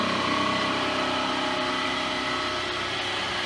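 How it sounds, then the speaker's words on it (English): A Feedmaster disc grain mill at a stock feed milling plant starts up, giving a continuous mechanical hum and whir that stays at a steady level, with no voices. "The mill starts up, the mill discharge auger starts up with a small pause, and then the in-feed auger begins."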